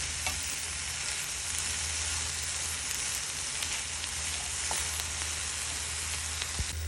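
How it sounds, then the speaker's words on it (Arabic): Hot peppers, washed and dried, dry-roast in a pan with no oil over a flame, giving a steady close hiss and sizzle with occasional faint pops, no voices. "طبعا أشوحه أو أقلبه لمدة 10 دقايق، شايفين، من دون زيت"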